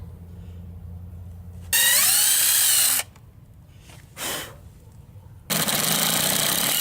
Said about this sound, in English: countersink bit and drill two holes here and here